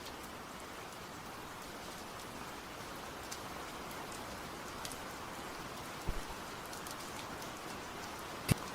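Steady rain falls in a continuous, even hiss, with a few faint drops and ticks standing out now and then; no voices.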